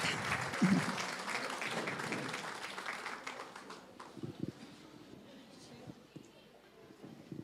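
A church congregation applauds during a Mother's Day service, with moderate, fairly distant clapping for a few seconds that then fades. A voice comes in afterward, and a few scattered sounds follow.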